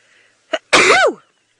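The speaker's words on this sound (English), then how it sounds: "I've still got the sneezes." A single sharp human sneeze comes close and loud, preceded by a quick inhaled catch, on a morning safari drive.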